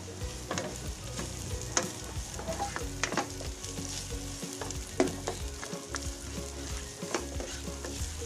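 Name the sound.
garlic and onions sautéing in a pan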